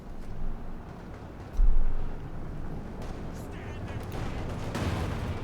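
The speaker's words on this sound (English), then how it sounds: "And there we go, we got the bunker busting barrage." An artillery barrage from Company of Heroes 2 booms at intervals, with a heavy thump early on and further impacts rumbling under a busy battlefield mix, while a commentator talks throughout.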